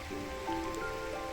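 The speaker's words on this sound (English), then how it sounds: "First rain we've had in about 3 weeks." Rain falls steadily as a soft, even patter, close and continuous, with a faint tonal hum in the background and no talking.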